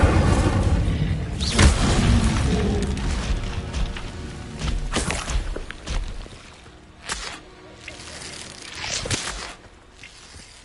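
A fire spell cast in the video game Hogwarts Legacy, with a loud booming burst and whooshing roar that thumps and swells over several seconds, then fades under a further pair of softer bursts.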